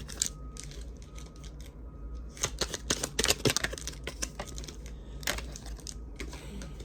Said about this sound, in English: Give one more shuffle for our beautiful collective.